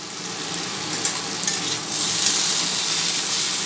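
Chopped onion and green chili dropped into potatoes frying in oil for a Bengali potato-peel chorchori, producing a close, steady hissing sizzle that swells a little louder after a few light taps.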